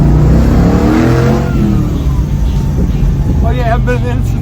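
A hot rod's engine roars loud and close as the car accelerates through a corner, a deep throaty growl rising in revs, with people talking and exclaiming over it.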